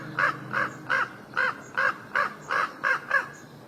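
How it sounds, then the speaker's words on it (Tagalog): An alarmed crow calls from trees beside a rural village road, giving eight harsh caws in a steady, evenly spaced series, loud and fairly close, with no talking. "Akala ko kung ano, uwak lang pala."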